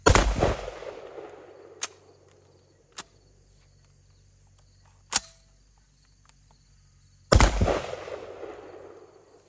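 Horizontal magazine-fed shotguns, TS-12, SRM1216 and TR-19S, fired on an outdoor range: two loud booming blasts with echoing tails at the start and end, and a few sharper, quieter distant shots in between.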